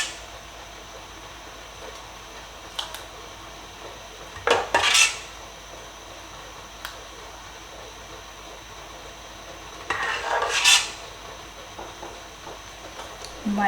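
Glass canning jars and a metal funnel clink and rattle during blackberry jam filling, with two brief bursts of clatter separated by quiet room tone.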